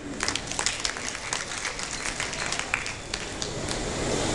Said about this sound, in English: Generous with the clapping.